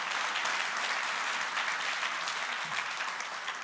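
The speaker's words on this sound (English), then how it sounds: "can I get a round of applause" Audience applause fills the space, a dense steady patter of many hands clapping together without pause.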